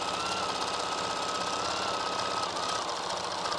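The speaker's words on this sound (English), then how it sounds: "Let me increase my stitches again so we can have a tighter stitch length." Sewing machine stitching a quilt at a tight stitch length, giving a steady, fast mechanical whir and rapid needle chatter that continues without a break, close and even, with no talk.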